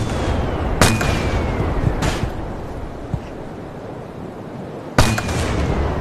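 Explosions in the VR game Yeeps, with several sharp booms standing out against a steady noisy background, three strong bursts spread across the span, the last one loud and close.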